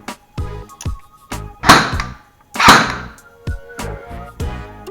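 An unboxed TaiwanGun airsoft gun, battery connected, fires in a run of sharp, loud clacks from its piston, about eight or nine snaps in an uneven rhythm, close up.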